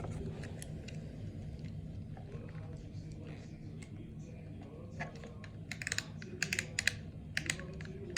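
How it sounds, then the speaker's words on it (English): A Bronica SQ-Ai medium-format camera has its lens worked off the body. Soft mechanical clicks and clacks come close by, growing busier toward the end. Someone speaks over part of it. "let me try to get this lens off of there."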